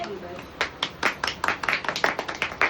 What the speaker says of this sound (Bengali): হাততালি দাও, হাততালি দে।